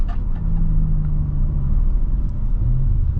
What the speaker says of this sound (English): I do like the way the exhaust sounds.